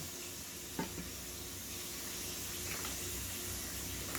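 Lobster and shrimp stir-fry in olive oil for a seafood stir fry, a soft, even hiss of sizzling with a couple of faint utensil clicks near the start.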